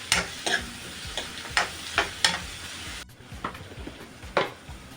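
Onion and tomato soften in hot oil as a spoon stirs them, giving repeated scraping and tapping strokes at an uneven rhythm over a low, continuous sizzle, fairly close.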